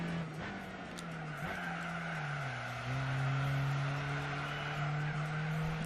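Engine drone of an Alpine A110 racing in Gran Turismo 4, a continuous loud whine with gear shifts and shifting pitch, tires squealing and skidding through corners, no talking.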